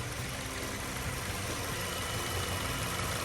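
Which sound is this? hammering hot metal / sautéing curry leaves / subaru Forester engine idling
subaru Forester engine idling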